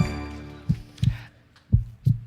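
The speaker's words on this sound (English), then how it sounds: "Oh, I made that heartbeat there." A heartbeat sound effect from a game contest trailer: four deep, thudding beats in two lub-dub pairs, loud and close, with a faint hum underneath and no talking.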